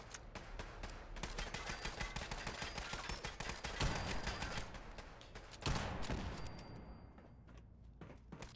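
Rapid video-game gunfire crackles in dense bursts throughout, loud and close, with a couple of heavier blasts midway and a brief lull near the end before shots resume.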